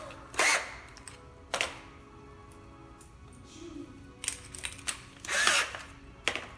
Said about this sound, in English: Now I'm ready to screw these in.